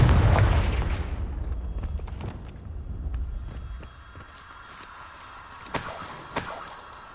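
Confringo fire blast spell cast in the Hogwarts Legacy video game, a loud booming burst that trails off, then two short sharp cracks later on, with no talking.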